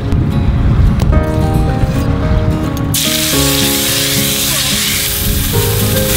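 Fresh Montauk yellowfin tuna, rubbed with salt, rosemary and ancho chili powder, sears in olive oil in a hot skillet outdoors on a beach, a loud close sizzle that swells into a bright, hissing spatter and keeps going, with no talk.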